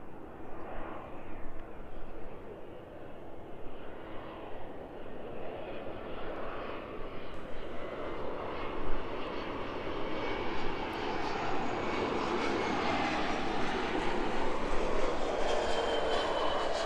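An aircraft on approach to the runway at East Midlands Airport in the evening produces a loud, steady jet roar that slowly swells as it draws nearer.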